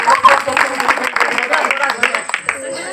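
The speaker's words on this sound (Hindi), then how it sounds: "निखिल बाबू ताली मारो" Village prize ceremony during a Nuakhai celebration, with an audience clapping steadily in a dense, close patter that runs throughout, mixed with crowd murmur and voices speaking over it.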